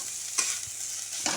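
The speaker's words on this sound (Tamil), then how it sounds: "இது எல்லாத்தையும் போட்டு நல்லா கிளறி எடுத்து பரிமாறிடலாம்" Broccoli, green peas and mixed vegetables stirred in a pan as a stir-fry, a steady close sizzle with two brief scraping strokes of the spoon.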